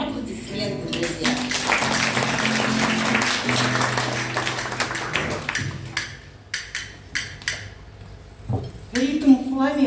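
Audience applause at a poetry presentation evening, a dense wash of clapping under a murmuring crowd that thins into a few scattered claps before a voice starts up near the end.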